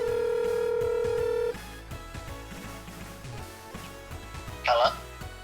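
Telephone tones from a TurboGrafx-16 game: a long steady tone, then a series of short dial beeps and a brief warbling ring near the end, with talk underneath.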